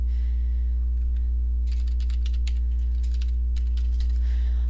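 Computer keyboard typing in short irregular bursts of soft clicks while text is entered in a digital design program, moderately close over a steady low hum, with no voices.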